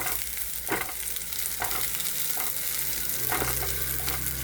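Onions, cashews and raisins fry in a pan for prawn biryani: a close, steady sizzle broken by several scraping stirs of a spatula.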